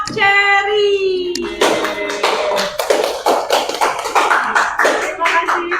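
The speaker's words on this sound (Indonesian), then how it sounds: "kita beri tepuk tangan untuk kelompok Cherry" A classroom of students applauds a student group after a presentation, a dense burst of hand claps starting about a second and a half in and continuing steadily, following a teacher's spoken voice.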